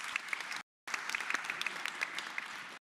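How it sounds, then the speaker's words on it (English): A conference plenary audience applauds in a soft, steady round of clapping. It breaks off briefly, resumes, then stops abruptly. "give yourselves a round of applause for being here all this time, folks."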